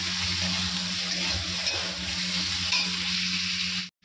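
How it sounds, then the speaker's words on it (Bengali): Steady, loud sizzling of garlic frying in a hot pan, a continuous hiss that holds evenly and then stops abruptly at the end. "এখানে আমি একটা ভাজা বসিয়ে দিয়েছি, রসুনটা একটু ভাজা করে নিচ্ছি"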